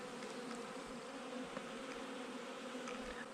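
Honey bees hum steadily inside a well-populated backyard hive covering seven frames, a dense, continuous close-up drone with no talking.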